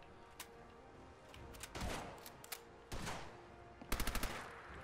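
Enemy shotgun fire in the video game Fallout 4 comes as scattered sharp blasts, some single and one quick cluster of several, moderately loud against a low background.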